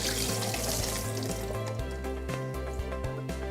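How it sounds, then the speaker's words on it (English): Soaking water drains off cashews into a sink, a steady hissing pour running continuously up close, with background music playing underneath. "I'm just going to drain the water out."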